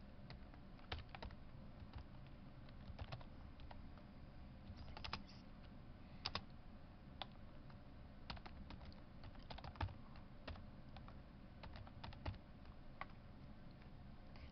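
Someone types code into SPSS's syntax editor on a computer keyboard, with quiet, irregular key clicks in short bursts and brief pauses, heard alone and close.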